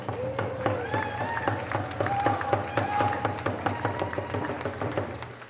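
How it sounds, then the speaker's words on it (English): An audience at a city hall Indigenous Peoples' Day celebration claps steadily in a dense patter, with a voice speaking over the applause. "Could we have a round of applause, please?"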